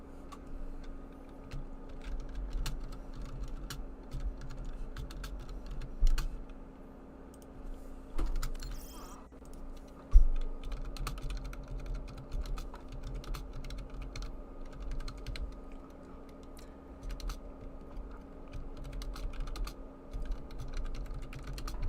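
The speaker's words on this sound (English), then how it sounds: "I'm gonna quickly type something." Quick typing on a computer keyboard during an Overwatch 2 scrim cast, with faint, rapid clicks scattered over a steady low hum and background noise, and a few slightly louder taps standing out.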